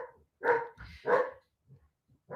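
A dog barks twice in quick succession, fairly close and loud, followed by a few faint softer sounds and a third bark starting at the end.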